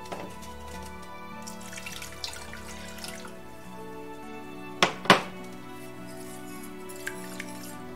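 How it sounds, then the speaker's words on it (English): Water pours from a tap into a mixing bowl of Hokkaido milk bread dough, a soft running trickle with a couple of sharp splashing clunks midway and faint drips afterward, heard alone without talk. "you can add the remainder of your water"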